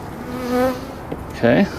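Bees buzzing close by inside a hive in a low, steady drone, with a brief spoken word near the end.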